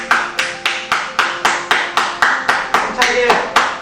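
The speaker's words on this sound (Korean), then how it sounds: "박수 한번 20초 동안 자, 힘차게 한번 쳐보죠" Steady hand clapping, about sixteen sharp claps at a regular brisk rhythm, close and loud, with a voice talking softly underneath.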